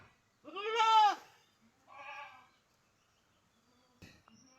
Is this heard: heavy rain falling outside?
no